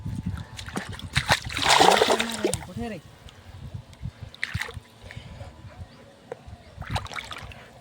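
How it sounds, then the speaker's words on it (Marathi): A large freshly caught crab is washed in water by hand, with close splashes and sloshing in bursts. Someone talks over it. "हे बघा धुवून दाखवतो तुम्हाला"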